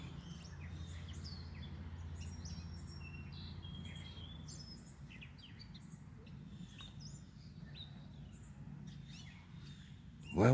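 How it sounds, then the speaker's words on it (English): Cardinals and finches singing outdoors, a scatter of bright chirps and short whistled phrases at moderate distance over a low steady hum, ending in a sudden loud burst close to the microphone. "We had what looked to be some finches out here first, and then we had the cardinal"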